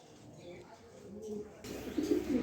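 Racing pigeons, including Afsan grizzle males, coo in short low bursts, soft at first and then louder and closer, with faint background voices.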